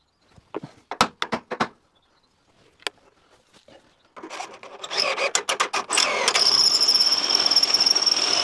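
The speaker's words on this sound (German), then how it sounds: "Und dann will ich da mal durchbohren." A drill bores through metal on a homemade trailer tarp-lift support. A few sharp taps and scrapes come first, then the drill starts and runs with a loud, rising grinding whine that continues to the end.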